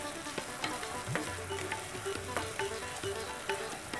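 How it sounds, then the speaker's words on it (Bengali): Finely chopped onion fries in a pan for an egg frittata, with a close, busy sizzle and a few scraping stirs and clicks over it. No one speaks. "পেঁয়াজ কুচি দিলাম"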